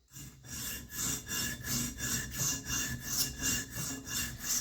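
An EDC knife blade is drawn across the coarse side of a sharpening stone in quick, regular back-and-forth strokes, a close, gritty scraping repeated about a dozen times, with no speech.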